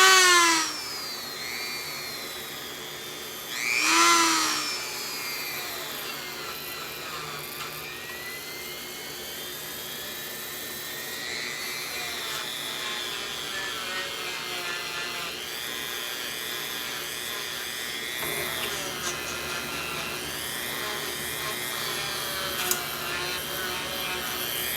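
A drill spins an arbor fitted with small Scotch-Brite squares and brass washers, polishing brass parts of a Selmer Reference 54 saxophone; the whine is continuous and moderately loud, rising and dipping in pitch as pressure changes.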